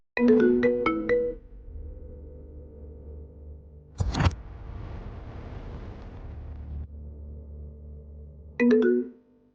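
A loud electronic ringtone plays a short melodic burst, followed by a long steady hum, a sharp thud, and the ringtone melody again.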